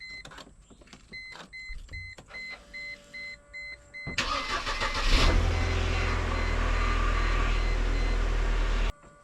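1998 Mercedes C230 with a dead, wrecked history cranks with a starter whine, catches, and settles into a loud, rough, uneven idle, preceded by dashboard chimes.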